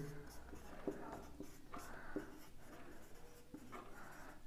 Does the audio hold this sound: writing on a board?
yes